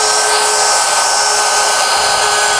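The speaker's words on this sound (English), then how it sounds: "I'm going to set the plunge depth of my router to route just through my 1/8-inch thick material" A plunge router cuts through 1/8-inch thick inlay material along a template, a loud, steady high-pitched whine held constant and close, with no talking.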